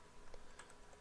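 Keys clack on a computer keyboard in a quick light burst of several taps, quiet and close, with no talk over it.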